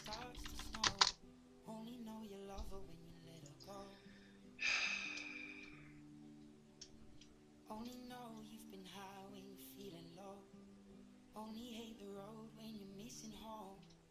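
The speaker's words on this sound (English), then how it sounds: "I'm sorry I keep on typing during these." Someone types on a computer keyboard in scattered bursts of soft clicks, with a sharp breath or snort partway through and low background hum throughout.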